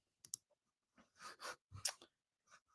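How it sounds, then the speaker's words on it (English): Quiet clicks from a computer keyboard being typed on, coming in short irregular bursts with pauses between them and no talking. "I'm typing it up for you."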